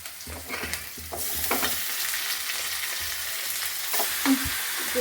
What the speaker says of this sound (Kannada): ಈಗ ಚಿಕನ್ ಹಾಕ್ಕೊಳ್ಳೋಣ.